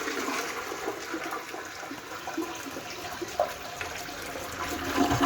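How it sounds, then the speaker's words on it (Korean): A toilet being flushed after it was just unclogged with a plunger, giving a steady rush and swirl of draining water throughout, close and continuous with a brief gurgle partway through. "그러면 물 한번 내려볼게요."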